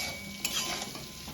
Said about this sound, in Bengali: এবার আমি এগুলো দিয়ে খুব ভালো করে আরেকটু ভেজে নেব।